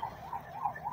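A 108 government ambulance siren wails past on a road, its rising and falling tone steady and moderately loud throughout with no talk over it.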